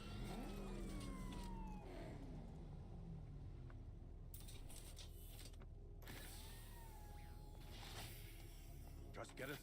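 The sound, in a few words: Batmobile engine revving in Batman Arkham Knight video game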